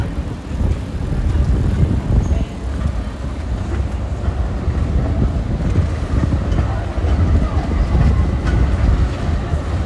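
A tram on line 12 rolls along a rainy Oslo street, a steady low rumble with faint rail clatter lasting the whole stretch, near and fairly loud over background traffic.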